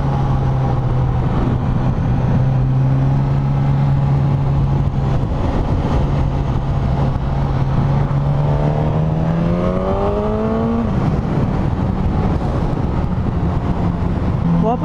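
A 2021 Suzuki GSX-S1000 four-cylinder motorcycle engine hums steadily, then its pitch climbs as it accelerates, with wind rushing loudly throughout.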